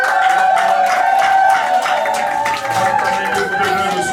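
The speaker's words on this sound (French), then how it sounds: "Vous devez donc applaudir." Close, lively clapping from a church congregation during a ceremony with rings, rhythmic hand claps over sustained singing or music and light crowd noise.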